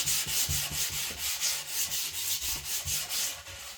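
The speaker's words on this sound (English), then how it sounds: "Now for the edges, I will use my sanding sheet." A cutting board's wooden edges being sanded by hand with a sanding sheet, close rhythmic back-and-forth rubbing strokes at a steady even pace, about three strokes per second, with no voices.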